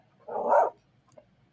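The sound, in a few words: Minecraft wolf barking, from a video game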